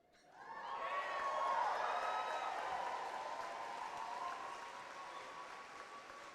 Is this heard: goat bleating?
no